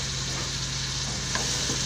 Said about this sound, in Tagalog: Babalik tayo dito sa paggigisa.